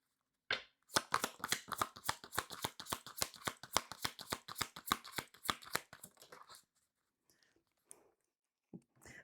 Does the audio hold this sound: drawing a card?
yes